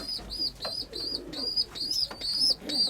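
Pigeons cooing inside a pigeon loft, a close chorus of repeated soft rolling coos in overlapping rhythmic phrases over faint background rustle, with no one talking.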